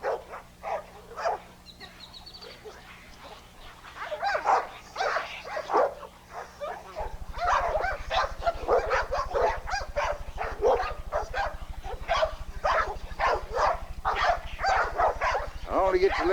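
An American bulldog barks and yips in a yard during bite training, sharp repeated barks and whimpers over a steady low hum, with someone talking nearby at times.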